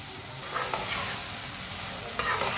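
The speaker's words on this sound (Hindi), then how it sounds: "अच्छी तरह मिक्स कर लेंगे। इसे भी थोड़ा सा पका लेंगे टमाटर को।" Tomatoes and green chillies cook in a hot pan with a constant dense sizzle, stirred now and then with soft scraping and a sharper utensil clatter near the end, no one speaking.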